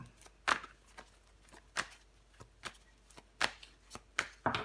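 Tarot cards are laid down on a table one after another, giving soft, close slaps and brushing sounds at an irregular pace in a quiet room.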